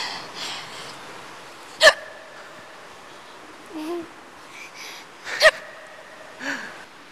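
A woman hiccups in a Thai TV drama scene, giving two sharp, abrupt catches a few seconds apart with softer breathy vocal sounds between them.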